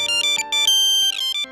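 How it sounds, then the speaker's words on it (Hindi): A mobile phone ringtone plays a bright, repeating electronic melody of short beeping notes, loud and close, in a Hindi family drama scene. "एक्सक्यूज मी, मेरा फोन।"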